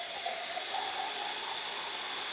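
Water running steadily into a cooking pot, about half a cup added for steaming hot dogs, a soft continuous pouring hiss heard alone and close.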